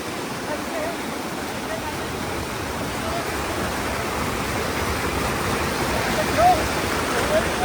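A waterfall at Adai village near Panvel sends out a continuous, fairly loud rush of falling water, a steady broadband roar that holds the same level throughout.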